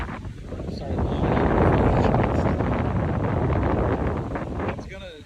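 Wind gusts hard across a lakeside island campsite at Lake Murray, a loud, rushing buffet on the microphone that swells and holds for several seconds, with someone talking briefly at the start and end.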